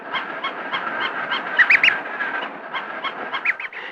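A duckling peeps over and over, close and clear, in short high calls that come in irregular bursts, with a few louder calls near the middle and toward the end.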